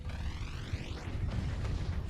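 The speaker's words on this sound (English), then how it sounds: "there goes another chunk as the mortars come through" Mortar shells burst in a video game match, a steady muffled rumble of explosions with a sweeping tonal whine overhead, faint and continuous without talking.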